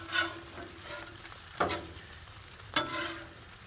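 Taylor ham sizzles steadily on a hot Blackstone griddle outdoors, with a few sharp scraping or flipping sounds cutting through the frying hiss.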